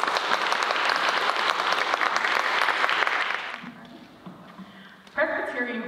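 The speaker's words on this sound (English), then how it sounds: "Let's give him another round of applause." Audience at a college convocation lecture claps in a dense, steady burst for about three and a half seconds, then the applause fades and a voice speaks over the room.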